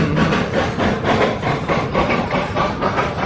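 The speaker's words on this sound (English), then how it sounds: "here comes the train" An amusement park train rolls past at Lagoon, a loud, close, continuous rumble with rhythmic clattering pulses running throughout, with no voices.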